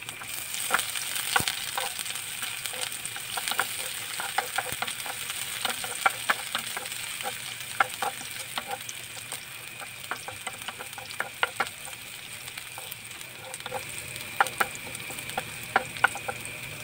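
Chopped onion fries in a pan with a steady close hiss, punctuated by frequent sharp scraping and clicking strokes from a utensil stirring against the pan, continuous throughout with no talking.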